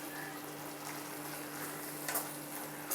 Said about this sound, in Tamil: இப்போ மஷ்ரூம் வதங்கிக்கிட்டு இருக்கு